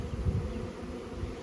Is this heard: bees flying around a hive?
yes